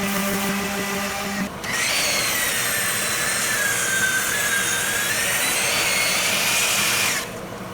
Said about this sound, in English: the miter saw made it all the way through